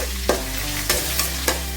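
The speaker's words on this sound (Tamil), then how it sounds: "பெரிய வெங்காயம் 1 வெங்காயம், இதெல்லாம் சேர்த்து நல்லா வறுத்துக்கலாம்." Onions and green chillies sizzle steadily in a hot pan while a utensil stirs and scrapes them a few times, with no talking.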